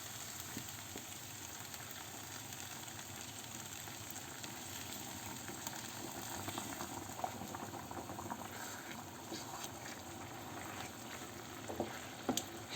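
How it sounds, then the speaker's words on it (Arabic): Sauce simmering in a non-stick frying pan, topped up with hot water, gives a steady, close bubbling and soft sizzle that runs throughout without any talking. "صافي هنايا نخليها تغلى واحد شوي وغادي نقص عليها حتى طيب"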